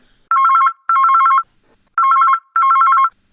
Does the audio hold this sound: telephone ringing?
yes